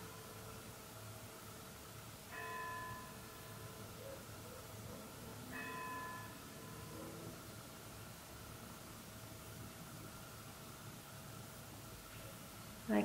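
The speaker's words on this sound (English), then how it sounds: "Should church bells be ringing this late?" Church bells chime late at night in Richmond, Tasmania, two clear ringing strikes several seconds apart heard from a distance over steady background hiss, with a faint sharp knock at the very end.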